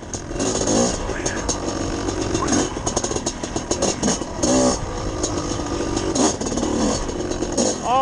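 A two-stroke motorcycle engine revs and rumbles close by, rising and falling in pitch, with some indistinct voices in the background.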